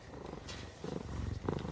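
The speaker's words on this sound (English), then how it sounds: "Are you purring? Oh my God, you're purring." A cat purring softly and close, a low rhythmic rumble pulsing steadily through the short quiet stretch.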